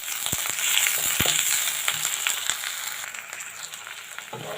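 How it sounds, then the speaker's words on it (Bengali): Chopped garlic and onion fry in hot oil until brown, giving a steady broadband sizzle with a few sharp spatula clicks and scrapes against the pan, close and alone. "দিয়ে দেব রসুন কুচি, পেঁয়াজ কুচি পরিমাণ মতো। বাদামি কালার করে ভেজে নেব।"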